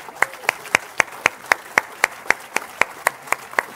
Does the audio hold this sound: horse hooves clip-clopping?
no